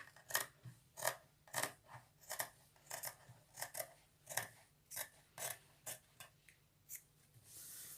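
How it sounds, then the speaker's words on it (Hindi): Scissors snip away extra fabric around a stitched suit neckline, a quick series of crisp close cuts in an uneven rhythm, quiet and alone. "अब हम यहाँ 1/4 इंच के करीब कपड़ा छोड़ते हुए बाकी एक्स्ट्रा कपड़े की कटिंग कर देंगे"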